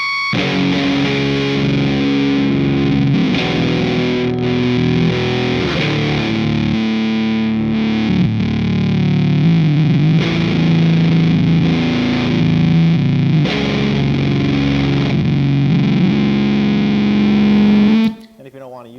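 A Tortuga Effects Wendigo silicon fuzz pedal drives a guitar into thick, buzzing distortion that sustains loud and steady with warbling, strange tones, then cuts off sharply at the end.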